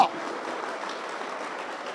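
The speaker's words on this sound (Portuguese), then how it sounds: "Aplauda forte aí" A church congregation applauding steadily and evenly, a dense wash of clapping holding at the same level throughout with no break.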